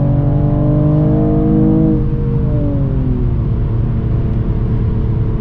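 A 2022 Mercedes-AMG CLS53 facelift accelerates hard from close by. The loud engine note climbs in pitch, then drops at a gear change and keeps pulling steadily with no talk.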